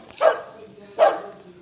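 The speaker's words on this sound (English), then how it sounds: "Maddie, you are no snow dog." A dog outdoors in the snow gives two sharp barks about a second apart, close and loud, with quiet between them.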